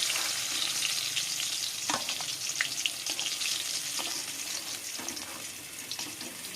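Potol kofta fries in a pan with a continuous bright sizzle, with occasional sharp crackles and pops throughout; no voices.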